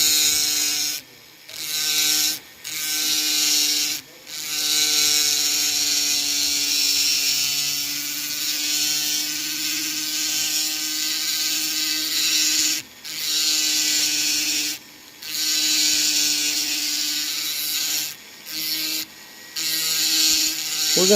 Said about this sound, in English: We're going to go in there with some smaller burrs to kind of blend it into the shank.